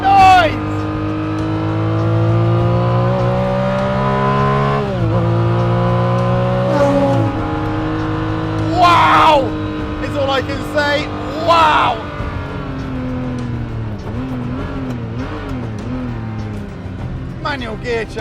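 Ferrari F50 with a 8,500 rpm V12 revving hard, rising harmonic engine wails climbing through gears with brief dips between shifts, loud and close inside the car, while a man exclaims excitedly over it.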